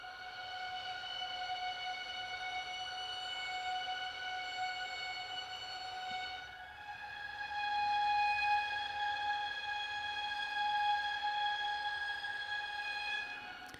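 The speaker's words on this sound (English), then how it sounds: "the long Sultasto flautando. And I just have that doing long held octaves." Sampled strings played sul tasto flautando hold soft, airy long sustained octaves, shifting to a new chord midway, smooth and quiet with no talking.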